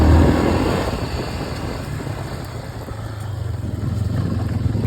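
Yamaha TTR250 dirt bike with an aftermarket pipe on an enduro trail loop, a loud continuous engine drone that eases off and then builds again, no talk.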